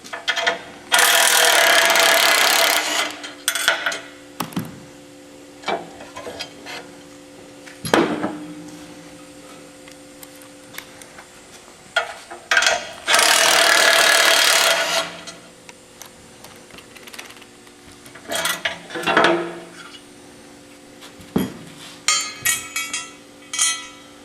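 Surface-mounted brackets being removed from a flip extension, with bursts of ratcheting tool whirring, metallic clanks and knocks of hardware spaced through the passage, fairly close and without speech.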